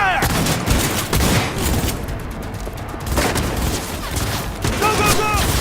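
Sustained video game gunfire in Cyberpunk 2077, a loud dense fusillade of rapid shots and booms running throughout, with brief voice calls mixed into the chaos.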